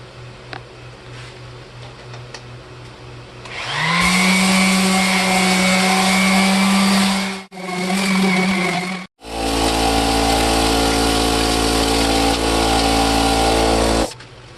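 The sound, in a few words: sanding down a Ford Ranger bumper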